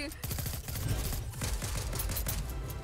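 Rapid gunfire in the Fortnite video game comes as dense bursts of shots that repeat in fast, fairly loud rattling volleys for the whole clip.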